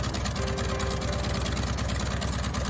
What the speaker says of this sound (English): And your engine is running happily.